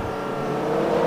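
Race car engines in a racing video game drone steadily together in a loud, continuous roar that swells slightly, with no talk.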